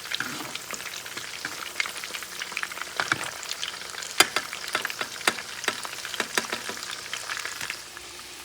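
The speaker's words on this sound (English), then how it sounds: "And you're going to fry them for about 2 minutes, maybe 3, if that." Cod-stuffed ripe plantains fry in oil with a continuous crackling sizzle, scattered sharp pops and spatters over a soft bubbling bed, close and fairly quiet, with no talking.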